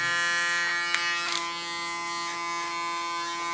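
A hair clipper cleaning up the contour line of a bob haircut, a steady close electric buzz with a constant hum and brief scraping touches against hair, no talk.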